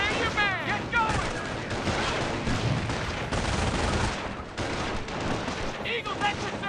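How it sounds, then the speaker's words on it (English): Battle in the Company of Heroes strategy game: dense bursts of machine gun fire and heavy explosions crowd together, loud and close, while soldiers' voices shout among the gunfire. "Company of Heroes has always had a great visceral quality to its audio design, with hard-hitting explosions, sharp machine gun fire"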